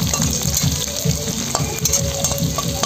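Onions with green chili and red chili masala fry in a pan for mutton kosha, giving a loud, steady, close sizzle with stirring throughout.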